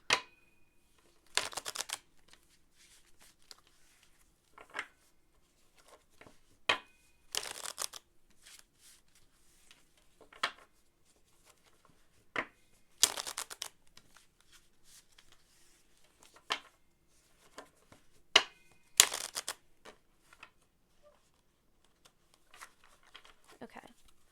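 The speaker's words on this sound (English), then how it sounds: "Let me shuffle again." Tarot cards being shuffled by hand in a series of short, crisp riffling bursts separated by quiet pauses, fairly close and clear, with small taps and handling noises in between.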